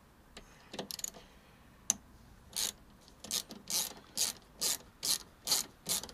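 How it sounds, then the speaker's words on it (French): Small screws being loosened on an Audi A3 S line during an oil change, giving a run of about eight short, regular ratcheting clicks near and fairly loud, after a few scattered knocks, with no talking. "dévisser toutes les vis"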